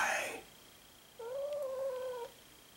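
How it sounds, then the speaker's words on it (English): A single drawn-out cat meow, fairly faint, rising then holding steady for about a second, heard alone in a quiet room. "There's camera shy Kitty."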